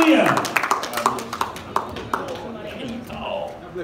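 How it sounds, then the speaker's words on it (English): Group of churchgoers clapping hands together in scattered, uneven bursts, quick sharp claps from a congregation with voices mixed underneath. "Give God a hand clap."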